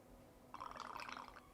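Seedlip non-alcoholic spirit poured as a 40 ml measure for a passion fruit martini mocktail, a brief soft liquid trickle lasting under a second, close and fairly quiet, with no talking.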